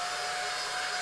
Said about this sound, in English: Don't worry, Daddy, there's a supersonic dryer.